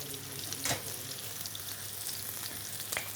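Chicken for chicken francese frying in a pan, a steady crackling sizzle with occasional stirring scrapes, moderately quiet and without talk.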